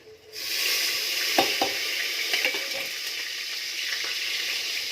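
Three whole dried red chillies and a bay leaf dropped into hot oil, bursting into a loud sizzle that holds steady, with a few crackles and pops and a utensil tap or two, heard close with no talking.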